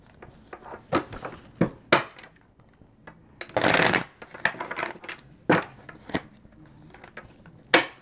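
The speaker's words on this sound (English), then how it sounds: "I want to put these cards back and shuffle them quickly" Tarot cards are shuffled by hand in a series of crisp riffles and slaps, with one longer burst of rapid flicking in the middle, close and clear with no talking.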